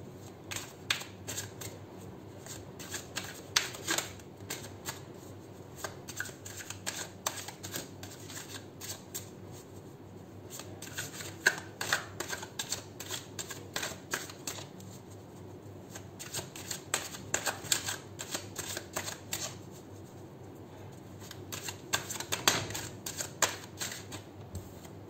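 Tarot cards are shuffled by hand close to the microphone, with repeated crisp riffling bursts and soft slaps between them, quiet and without talk.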